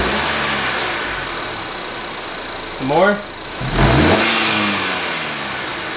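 Honda Accord (2018-2021) with a PRL high volume intake revved a couple of times after warming up, two rising engine swells around the middle over steady idle, with people talking briefly.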